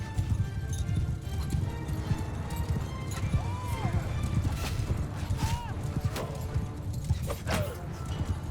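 Many horsemen gallop in Mount & Blade Bannerlord, a thick, rolling clatter of hooves with a few horse whinnies rising over it, while someone talks across part of it.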